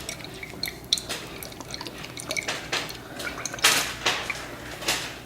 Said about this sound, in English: now I'm just gonna dump some sesame oil in here also